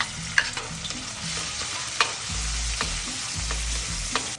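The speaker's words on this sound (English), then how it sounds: "Let's start by sauteing garlic." Garlic sautéing in a pan for Filipino pork menudo, a steady close sizzle with soft stirring scrapes and a few spoon clicks, no voices.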